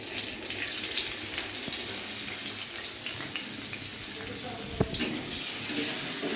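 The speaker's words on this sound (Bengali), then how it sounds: "এই যে দেখুন পেঁয়াজগুলো লাল করে ভেজে নিয়েছি।" Chopped onions fry in mustard oil in a wok, a soft constant sizzle with some clinks and stirring knocks near the middle, set against faint room noise.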